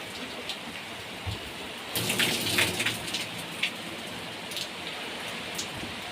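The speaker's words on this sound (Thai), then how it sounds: "ผมตอนนี้ฝนก็ ถือว่ายังตก แรงอยู่นะครับ" Heavy rain falling on and around a vehicle, a dense steady patter with a swell of louder drumming partway through and scattered sharper drops, steady and unbroken by any voices.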